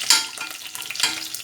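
Onion fries in a pan alongside vegetables for a chicken dish, a bright, close sizzle that swells in two scraping surges as it is stirred, with no voices.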